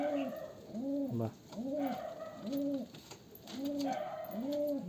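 A pigeon held in the hand coos repeatedly, about five rising-falling coos in a steady rhythm, close and fairly soft, with no talking.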